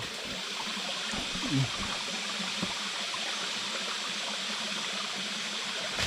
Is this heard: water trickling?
yes